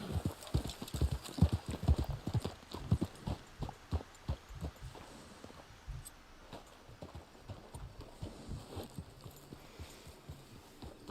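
Horse hooves clip-clop in the video game Red Dead Online, a steady trotting rhythm of sharp thuds that is loud at first and then eases into softer, irregular steps.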